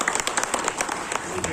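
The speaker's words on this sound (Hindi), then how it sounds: "हम अपने लिए सब तालियां बजा के" Workers at a Congress party gathering in Indore clap together in a brief, steady burst of quick, dense applause that carries loudly across the hall.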